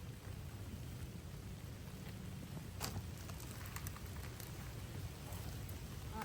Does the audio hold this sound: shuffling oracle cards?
no